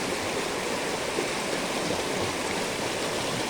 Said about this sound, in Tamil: அருவியில் கொட்ட நீர்வீழ்ச்சி தண்ணி பாருங்க